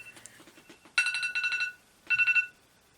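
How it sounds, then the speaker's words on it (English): A kitchen timer alarm goes off indoors with bursts of rapid, shrill electronic beeps, a long cluster followed by a shorter one after a brief pause, heard clearly at close range with no talking. "Not sure what that timer was set for"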